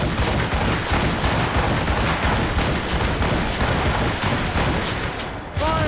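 A gunfire volley in the video game Assassin's Creed Rogue: a dense, loud barrage of overlapping cannon and gun blasts that rolls on continuously, ending in a brief ringing tone.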